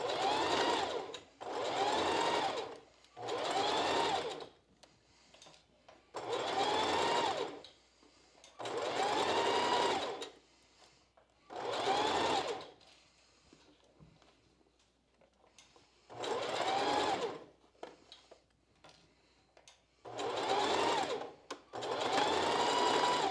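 A sewing machine runs a seam a quarter inch from the edge of a bra cup in a strapless bra, working in a regular series of about nine even, buzzing bursts with brief pauses, close and steady.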